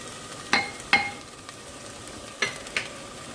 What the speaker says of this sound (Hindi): जब चिकन फ्राई होगी इसमें